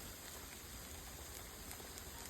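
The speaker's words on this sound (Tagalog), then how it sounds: "Hail, it's raining hail." Hail falling steadily during a hailstorm, a dense, even patter of small impacts that continues without pause, soft and somewhat distant, with no voices.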